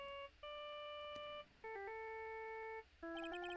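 A phone ringtone in the game Ace Attorney Justice for All plays as a series of clean electronic tones in short bursts with brief gaps, fairly quiet and alone.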